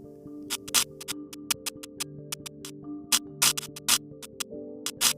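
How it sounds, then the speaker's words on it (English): Radio waves from lightning on Saturn, converted to audio: irregular bursts of crackling static pop in and out over a steady electronic hum, some clicks sharp and bright, others longer hissing rasps. "the sound you are hearing is actually the radio waves produced by the lightning converted to audio"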